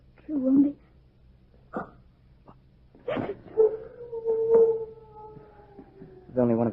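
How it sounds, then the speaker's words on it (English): Dog howl in a 1948 old-time radio mystery drama aboard a ship's cabin: a single drawn-out, wavering howl rises and sustains for a few seconds, preceded by short yelps and followed by a whimper, with actors' voices around it. "It was only one of the dogs."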